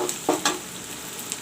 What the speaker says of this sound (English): Put in the bay leaves. Let the onion fry.